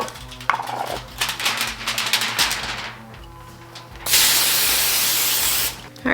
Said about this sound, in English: first I'm gonna spray the foil to keep the cheese from sticking